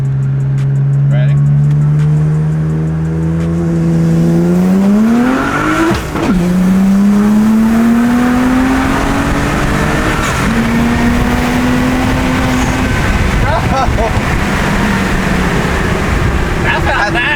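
A BMW 335i with the N54 engine revs up on brake boost, the tone rising in pitch, and then launches into a long, loud acceleration run with sweeping gear pulls. Voices come through over the engine.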